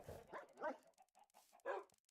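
Minecraft dogs (tamed wolves) barking and yipping during a breeding session in the game, several short barks in quick bursts with pauses between, moderately loud and alone.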